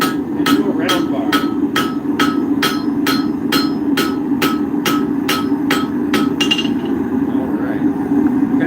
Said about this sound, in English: Can everybody still hear me okay over the forging?